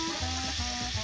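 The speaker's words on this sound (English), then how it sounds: "Listen to that nice sizzle." Food sizzles steadily in hot, smoking oil in a pan, a soft, continuous crackle heard briefly with no talk.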